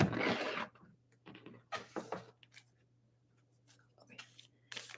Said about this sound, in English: And then I'm going to shuffle my oracles.